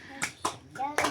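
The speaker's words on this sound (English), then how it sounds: "Clap your hand, baby." A baby clapping hands, four quick, close claps spaced about a quarter second apart, mixed with soft childish vocal sounds.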